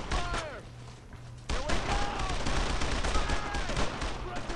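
Gunfire in Brothers in Arms: Road to Hill 30, starting quietly and then becoming a dense, continuous stream of loud shots and bursts, with voices mixed in under the firing.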